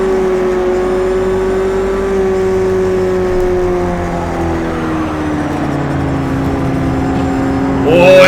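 Race car engine from Project Cars 2 drones steadily at high revs, its pitch easing and falling through the corner before rising again at the end, loud and continuous with no talk.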